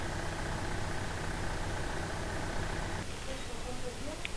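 Tractor engine idling in Farming Simulator 2015, a steady low mechanical drone with a constant hum that cuts back about three seconds in, continuing more quietly underneath faint background noise.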